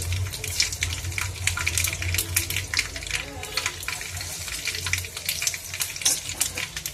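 Mustard seeds, cumin and cut dried red chillies sizzling in hot oil for a bottle gourd and dried prawn curry, a continuous crackling fry with someone talking over it.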